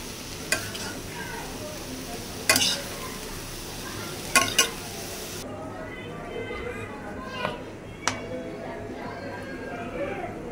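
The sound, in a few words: red spinach frying in oil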